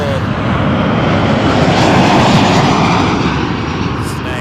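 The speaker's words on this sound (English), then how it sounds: "And looks like we got a WestJet," A WestJet airliner arriving at Toronto Pearson Airport makes a loud, continuous engine roar that swells gently toward the middle and holds steady for the whole stretch.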